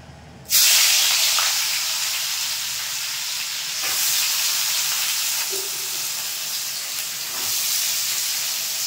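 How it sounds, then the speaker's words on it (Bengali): Chopped onion fries in a pan with a loud, steady sizzle that starts abruptly and carries on evenly, broken by a few soft stirring scrapes. "এই পেঁয়াজটা ভালো করে ফ্রাই হয়ে গেছে"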